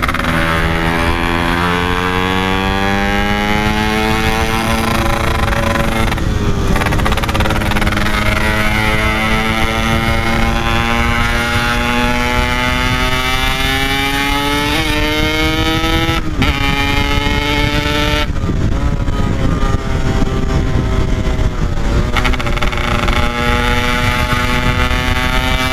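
A Yamaha RX King motorcycle races along a public road, its exhaust blaring loud and close. The revs rise and fall continuously through gear changes.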